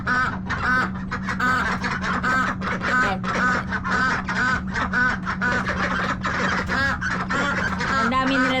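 Free-range ducks on a farm quack noisily together, a dense, continuous chorus of nearby honking quacks from many birds over a low background hum.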